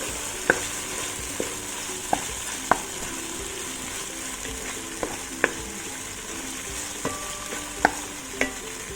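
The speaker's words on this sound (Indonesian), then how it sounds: "Kita aduk rata." A utensil stirs a mix of lime leaves, galangal and lemongrass frying in a pan for cassava leaf gulai, with a constant sizzle and about a dozen sharp, evenly spaced taps and scrapes against the pan.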